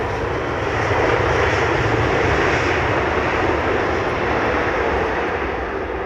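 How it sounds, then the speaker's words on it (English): Airliner landing on runway 27R with engines roaring in reverse thrust, a loud, sustained broadband rush holding steady for several seconds, close and unbroken. "as soon as the aircraft has touched the ground, you're straight on the reversers"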